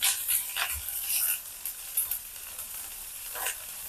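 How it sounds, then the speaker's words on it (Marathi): Chili, garlic and onion go into hot oil with mustard seeds for a besan dish, giving a soft frying sizzle broken by short scraping stirs, fairly quiet, with no one speaking. "मिरची, लसण आणि प्याज मिक्स करून घेऊ।"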